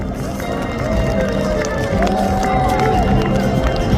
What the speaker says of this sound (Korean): 이 정도 박수 한번 가지고 되겠습니까?